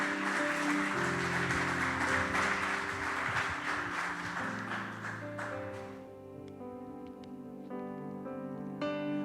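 A congregation at a church sermon breaks into strong applause over sustained keyboard chords, the clapping dense at first, then fading out after about five seconds while the music carries on alone.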